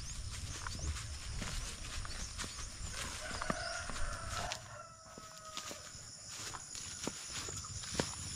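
Paloma the horse walks with hooves clip-clopping in a rural farm setting, spaced soft knocks near the listener mixed with rooster crowing and fowl calls in the background.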